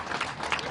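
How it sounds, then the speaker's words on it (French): Outdoor crowd applauding the winners at the podium of the 2018 Rallye Epernay Vins de Champagne. The clapping is a steady, dense wash of many hands, loud and sustained throughout the short moment. "des applaudissements s'il vous plaît"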